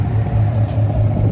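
A 2020 Chevrolet Camaro LT1 with long tube headers, untuned, idles with a loud, deep, steady exhaust rumble close by, a throbbing low drone without revving.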